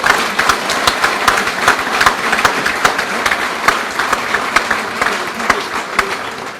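A crowd at an ANP political gathering at Bacha Khan Markaz in Charsadda applauds to approve a proposal, with thick continuous clapping and sharper individual claps popping out at a fairly loud, close level.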